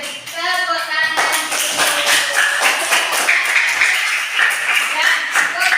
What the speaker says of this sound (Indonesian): Coba diberi tepuk tangan.